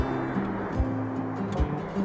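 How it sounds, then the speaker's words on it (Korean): Takakkaw Falls, a 343 m glacier-fed waterfall in Yoho National Park in the Canadian Rockies, sends a steady broadband rushing roar, with a few soft low thumps beneath. "빙하의 물이 폭포가 되어 떨어집니다"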